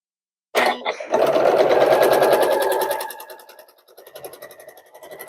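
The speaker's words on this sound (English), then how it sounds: "So I would take the top 2 and sew them together." A sewing machine stitches quilt blocks together, starting abruptly with a close, rapid whirring run of needle strokes that then slows and fades into softer, intermittent stitching.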